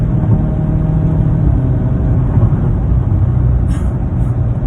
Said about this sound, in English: Oh God, this thing just shifts. It just goes right in the gear.